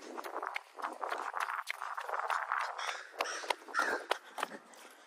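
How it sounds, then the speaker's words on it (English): Crows caw repeatedly outdoors, a string of harsh calls fairly close by with steady rustling and footsteps underneath. "Shut up, crow."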